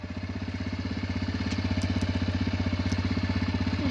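A motorbike engine idles steadily with a fast, even low-pitched throb, fairly close and continuous, with no talk over it.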